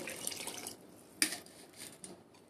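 Water is poured into a sambar mixture of lentils and spices in a pressure cooker, making a splashing, trickling stream with a brief sharper splash partway through and no one talking.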